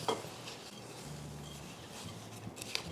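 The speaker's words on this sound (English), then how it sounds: "And mix." A spoon stirs a dry granola mixture with ground cinnamon and salt in a bowl, a soft continuous scraping and rustling with a few light clinks, close and steady, with no talking.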